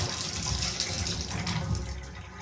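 Water runs steadily from a Moen shower faucet, a continuous broadband hiss and splash of moderate, even loudness with no voices.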